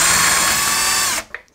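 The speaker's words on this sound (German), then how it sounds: "und mache mir da jetzt Löcher rein" Power drill boring holes through a board laid over a sacrificial backing board, one loud continuous high whine for just over a second that cuts off abruptly, followed by a faint clack.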